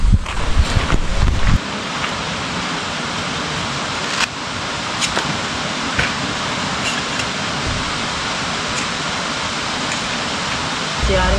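Steady rain falling outdoors at a relaxing spot in Norzagaray, Bulacan, a dense, continuous hiss that stays loud and even throughout, with some wind buffeting the microphone at the start.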